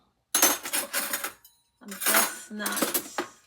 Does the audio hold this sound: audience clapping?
no